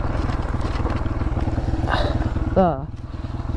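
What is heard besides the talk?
Honda CRF 150F dirt bike riding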